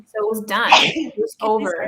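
A single loud sneeze from someone nearby, cutting in sharply between stretches of someone talking during a live book discussion.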